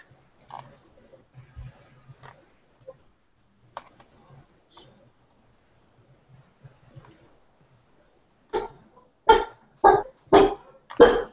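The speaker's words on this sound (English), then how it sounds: "Sorry, that's my dog." A dog barks five times in quick succession near the end, loud and close, after a stretch of faint ticking, clicking and scattered quiet sounds.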